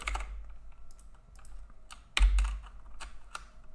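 A computer keyboard clacks with irregular, close keystrokes, with one heavier thump partway through. The typing is in a quiet room, with no talking.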